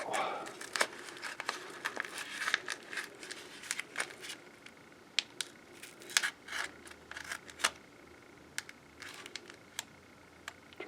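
Packing tape on a wrapped package of mixed world coins is cut open with a sharp tool. Quiet snips, crinkles and rustles of paper and tape come in short irregular bursts, close by.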